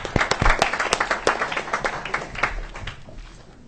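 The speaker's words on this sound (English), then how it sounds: "I didn't know I was going to get an applause for coming up here and testifying before everyone." An audience at a health hearing bursts into applause, sharp hand claps crowding together loudly at first, then thinning and fading over a few seconds.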